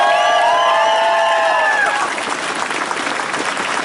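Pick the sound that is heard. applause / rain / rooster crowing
applause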